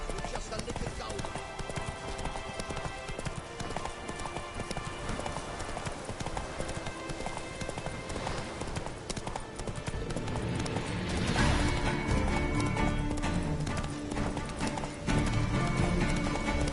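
Roach the horse gallops in The Witcher 3, hooves pounding in a fast continuous rhythm under music and game ambience, growing heavier and louder in the latter part.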